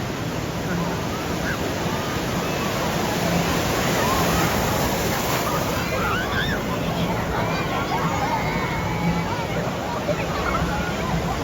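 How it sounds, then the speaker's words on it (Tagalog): Continuous rushing and sloshing of wave pool water at a water park in Wisconsin Dells, loud and steady, with faint voices and shouts in the background. "Lakas ng alon, ha."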